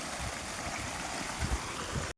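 Water flowing steadily past, a continuous broadband rush with low gurgling close by, no talk, cutting off abruptly near the end.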